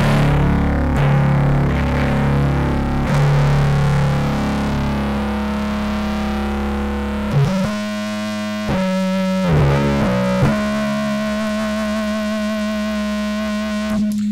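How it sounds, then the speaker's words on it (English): Bass guitar played through a 1972 Ampeg amp with an old Russian-made Big Muff distortion pedal, thick fuzzy sustained notes with strange octave overtones, a few chord changes and choppy stabs, loud and close with no talking. "That was just the Big Muff, and we were already getting weird octave effects"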